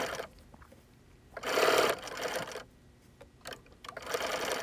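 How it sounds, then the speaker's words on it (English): A sewing machine stitches chin binding strips onto a fabric mask in close, steady bursts, running in a long loud run with brief pauses between seams. "And then you can start sewing the next one, second one, third one, fourth one, all the way to the end."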